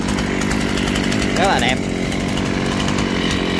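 A Shindaiwa 355 chainsaw runs at a steady, smooth idle, a continuous mid-loud engine drone under a man's speech.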